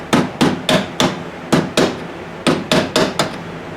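A hammer drives a screw extractor into a stuck screw in metal on a 1957 Chevy door conversion, about a dozen sharp, ringing metallic strikes in an uneven rhythm, loud and close, with no talk.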